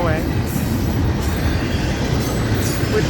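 A Florida East Coast Railway manifest freight train rolls past close by, a loud steady rumble of wheels and cars with faint squeal and clatter, no talk.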